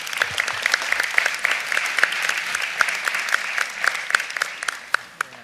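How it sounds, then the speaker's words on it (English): A seated audience gives a round of applause for three presidents at a city council honoring of the Links, Inc.; continuous crowd clapping with distinct sharp individual claps standing out, steady and moderately close. "I want you to give our three presidents a round of applause."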